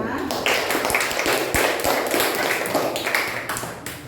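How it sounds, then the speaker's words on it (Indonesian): A classroom group claps after a presentation, giving a scattered patter of hand claps and taps that runs for several seconds with a few sharper knocks, with a voice speaking through it. "Tepuk tangan semuanya."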